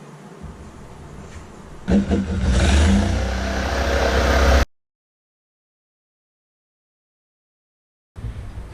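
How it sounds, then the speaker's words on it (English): A jigsaw cuts through wood for a wine caddy, its motor whirring up and running loud and steady for a few seconds before stopping dead into silence, then starting again briefly at the end. "We're going to cut this with the jigsaw."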